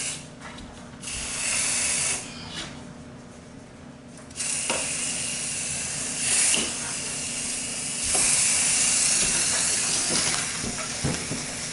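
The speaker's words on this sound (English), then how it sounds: "It's not tremendously wise to be in the area where these things are spraying because they are toxic" Insecticide foggers spray in an attic with a loud, continuous hiss that swells as more of them start up. The hiss is steady and close, with slight surges throughout and no talking.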